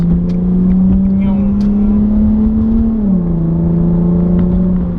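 An Infiniti G35 sedan pulls hard from inside the cabin, a loud steady engine drone holding one pitch and rising slightly before dropping after a shift, then carrying on evenly.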